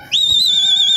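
A single loud, sustained high whistle blown to signal pigeons in flight, steady and piercing with a slight wavering pitch, close and alone.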